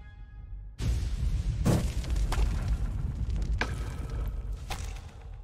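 Deep booming gunshots from a video game shooting range arrive after a brief quiet start, several heavy, reverberant bangs spaced a second or so apart over a rumbling low background.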